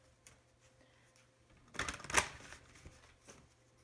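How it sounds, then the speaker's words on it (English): Tarot cards being shuffled by hand, a soft riffling burst building to one sharp papery flurry in the middle, close and quiet against a near-silent room. "Let me shuffle again."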